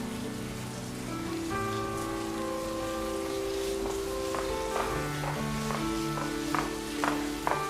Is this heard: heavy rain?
yes